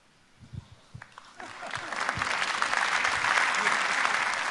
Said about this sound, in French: Applaudissements pour le buisson